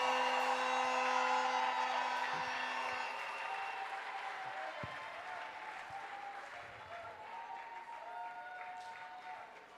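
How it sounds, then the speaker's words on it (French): Church congregation clapping during an offering, a dense sustained wash of applause that starts loud and gradually tapers off, with some singing or voices mixed in. "Clap offering."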